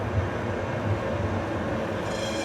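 A Sheffield Supertram tram rumbles steadily in the street with a continuous low roar of wheels and motor. The sound holds an even level for a couple of seconds with no voices.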